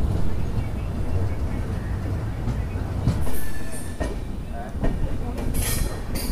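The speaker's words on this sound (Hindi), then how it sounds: "देखिए ये लोकल जा रही है हावड़ा की तरफ, और वही लाइन है हावड़ा की तरफ से आ रही है।" A local train bound for Howrah rumbles past on an adjacent track, a steady loud roar of wheels with clattering rail joints and a faint squeal, heard from aboard another moving train.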